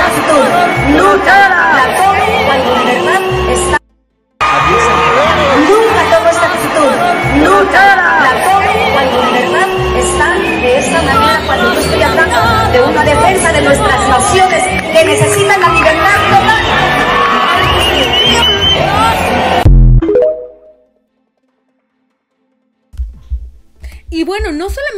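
A large Mexican crowd jeers at a singer, loud dense booing, shouting and whooping mixed with chanting voices for about twenty seconds, with a short cut near the start, then it stops abruptly into near silence.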